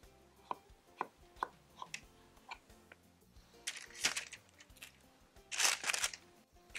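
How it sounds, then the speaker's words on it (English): A knife chops through zucchini lengthwise on a board in a series of sharp, close taps, with heavier scraping cuts near the end and no talking. "Then I'm going to cut the zucchini in half lengthwise and lay my zucchini on the baking pan"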